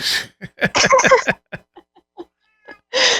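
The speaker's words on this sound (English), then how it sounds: "Oh, I can hear your cat meowing." A loud pet cat meowing indoors in a run of sharp, close calls, with short gaps and quieter chirps between them, then one more long, loud meow at the end.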